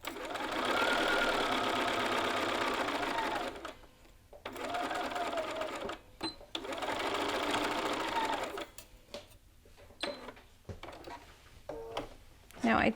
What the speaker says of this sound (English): We are going to back tack here, or whatever back tack alternative you like to use, and just sew across.